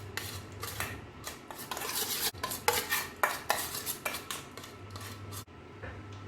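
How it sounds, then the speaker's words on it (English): A utensil mashes and creams fermented tofu in a bowl, making close, repeated scraping and soft tapping strokes against the bowl in a steady rhythm, fairly quiet overall. "The easiest way to mash it is to sort of cream it"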